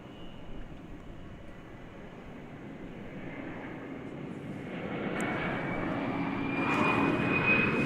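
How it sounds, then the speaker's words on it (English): Airplane arriving at DFW Airport, a distant jet engine roar that grows steadily louder over several seconds, with faint voices in the background. "I pulled away to bring you the arrival of this aircraft"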